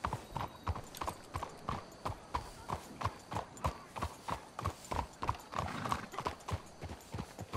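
Horses' hooves clip-clop steadily in Red Dead Redemption 2, a quick, even rhythm of loud, close hoofbeats on the ground with no talk over them.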